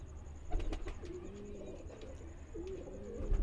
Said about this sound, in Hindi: एक ये मकोया कबूतर है भाई